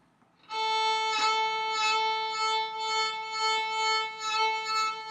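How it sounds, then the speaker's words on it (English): Played portato on the violin, one held note pulses in a series of gently separated bow strokes, each swelling slightly within a continuous tone, heard close and alone. "But if you make it portato, you go ahead and you pulsate that note."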